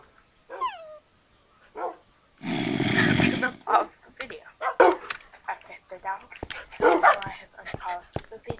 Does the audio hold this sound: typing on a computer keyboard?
no